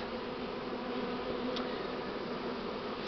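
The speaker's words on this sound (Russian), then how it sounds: "О, оса полезла." Wasp near a beehive at an apiary, a steady close insect buzz that continues without a break, with no voices.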